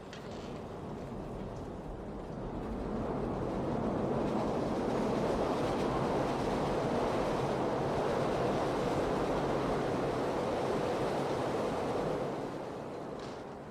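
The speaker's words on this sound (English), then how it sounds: "the sound of an elevated train passing by the restaurant" An elevated train passes by a restaurant, a broad steady rumble and roar that swells in the middle and fades slightly toward the end, continuous with no talking.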